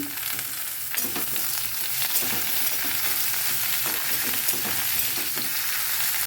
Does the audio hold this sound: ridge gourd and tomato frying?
yes